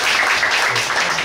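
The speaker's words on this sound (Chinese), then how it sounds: "我们先热烈的掌声欢迎他。" Audience applause at an academic lecture welcoming a visiting professor, a steady dense patter of many hands clapping throughout the short stretch, fairly loud and even.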